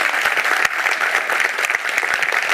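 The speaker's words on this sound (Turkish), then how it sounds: "Alkışlarla." A studio audience at a live Turkish music and comedy show bursts into applause, a loud, dense, continuous wash of clapping from many hands, close and unbroken for the whole stretch.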